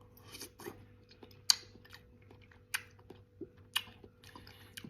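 Close, quiet crunching as a firm gold kiwi fruit is chewed, with sharp crisp bites at irregular intervals over a faint steady hum.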